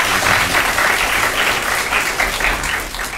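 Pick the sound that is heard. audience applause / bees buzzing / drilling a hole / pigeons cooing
audience applause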